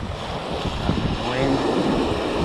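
Wind buffeting across an open sea coast during bass fishing, a steady loud roar and rumble of gusts against the microphone with surf noise underneath.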